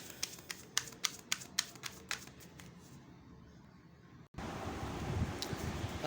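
Slippery tarot cards are shuffled by hand, giving a rhythmic series of close, crisp riffling snaps for about three seconds, then a pause and a steady louder rustle.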